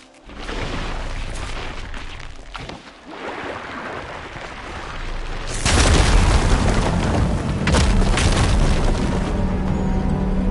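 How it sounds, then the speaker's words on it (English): A firegleam deposit detonates in Horizon Forbidden West, a loud, deep explosive boom bursting out partway through and blasting rubble clear, with a rumbling, debris-filled roar that keeps going under steady game ambience. "Igniting that fire gleam should clear it."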